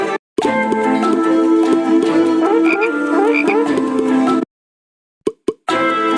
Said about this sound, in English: Then he filled the Egyptian houses with frogs.